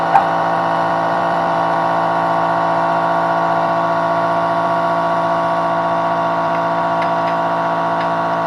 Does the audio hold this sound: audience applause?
no